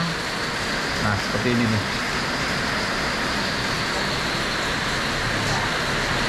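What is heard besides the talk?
rain falling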